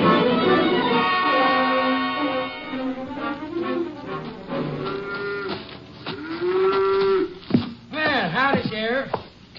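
A cow moos loudly and repeatedly at close range on a farm during milking, some calls long and steady, others rising and wavering, while people talk over the lowing.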